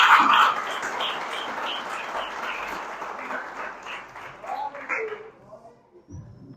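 Church congregation clapping and applauding, a dense burst of hand claps that starts loud and gradually thins and fades over several seconds, with some voices mixed in.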